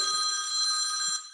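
A phone rings with a bright, steady electronic bell tone that lasts just over a second before stopping, with nothing else heard around it.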